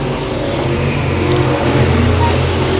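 Race cars roar around the oval at Boothill Speedway, a dense, continuous layer of engine drone from several cars at once, steady and loud with no break.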